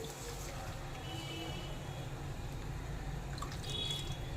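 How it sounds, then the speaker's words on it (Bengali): Liquid milk pours into a pan of white sauce thickened with flour, a steady close trickle and splash with faint dripping over a low background hum. "এবারে দিয়ে দেব লিকুইড দুধ"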